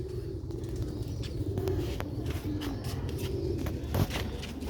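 Pigeons of the Abdullah breed, a pure master pair kept for sale, cooing steadily in low repeated murmurs at close range, with a few faint rustles and chirps around them and no talk.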